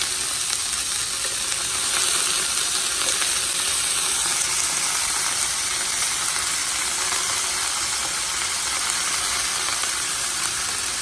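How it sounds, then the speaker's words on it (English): Wet pineapple-marinated chicken sizzling and spitting in hot oil with onion in a pan, a dense, loud, continuous crackling hiss held steady throughout with no talking. "Instead, spitting because it's so wet, all the water when it hits the oil."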